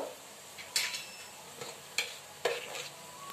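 A spiced masala with turmeric, coriander powder, cumin powder and asafoetida sautés in a pan, a soft sizzle broken by a few sharp scrapes and clinks of a spoon against the pan, close and without talk.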